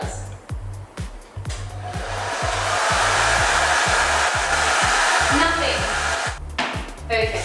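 A hair dryer blows heat onto thermal colour-changing hair dye, a loud close steady whoosh that starts and stops with uneven bursts at the beginning and end.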